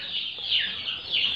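Turkey poults kept with a mother hen chicken in an open hanging pen give a steady stream of high, close chirping and peeping with a few louder swells.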